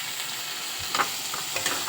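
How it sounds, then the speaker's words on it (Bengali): Chopped onion, garlic and chili frying in mustard oil, with a steady close-up sizzle and a couple of brief spatula scrapes and knocks against the pan. "আমরা আজকে সরষা তেল দিয়ে করব। পেঁয়াজ কুচি, রসুন কুচি, লঙ্কা কুচি সব দিয়ে দিলাম।"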